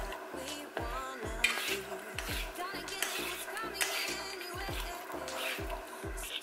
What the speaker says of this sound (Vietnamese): sau khi vắt hết nửa còn lại thì các bạn lại tiếp tục trộn đều